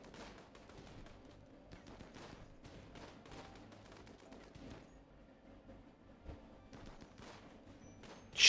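Gunfire in the colony-sim game Rimworld: a steady stream of rapid, dense shots with short bursts throughout, moderately loud, ending in a sharp louder impact.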